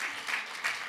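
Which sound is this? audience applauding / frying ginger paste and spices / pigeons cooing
audience applauding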